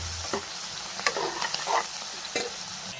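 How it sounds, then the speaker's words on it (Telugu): Onions with salt frying in a pan, a continuous close sizzle broken by several scraping strokes of a spoon as they are stirred. "బాగా కలుపుకున్న తర్వాత కొంచెం అంతా ఉప్పు వేయాలి. ఉల్లిపాయలు మంచిగా మెత్తగా అవుతాయి ఉడికితే."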